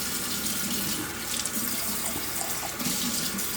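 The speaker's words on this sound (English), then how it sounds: "So take some cold water" Cold water runs steadily from a kitchen tap into a small salsa container for cooling hard-boiled eggs, a continuous close splashing rush that fills the clip on its own with no talk.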